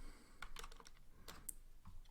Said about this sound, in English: start by typing vi